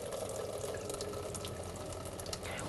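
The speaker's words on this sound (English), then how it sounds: "then we're just going to pour the water away." Rinse water poured away from hops during home beer brewing, a steady close splashing and gushing flow into a sink, continuous for the whole stretch with no talking.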